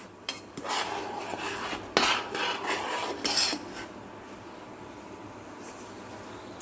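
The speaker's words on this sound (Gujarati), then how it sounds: "થોડું હલાવીશું." A metal spoon scrapes and stirs dudhpak, a milk pudding with soaked saffron and sugar, in a pot. Steady close-up rasping and clinking strokes run for several seconds, then settle into a quieter background hum.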